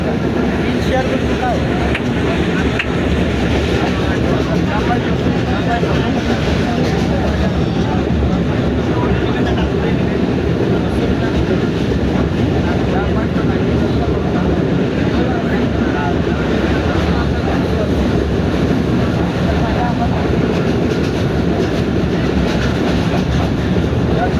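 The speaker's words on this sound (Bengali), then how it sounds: "ফাইনালি আমরা ট্রেনের ভিতর যাচ্ছি" Inside a moving passenger train bound for Rajshahi, a loud steady rumble and roar of the carriage fills the whole stretch, with rhythmic rattling underneath and indistinct voices mixed into the din.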